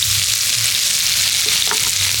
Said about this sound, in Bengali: এবার তেলের মধ্যে আমি দিয়ে দেব পেঁয়াজ কুচি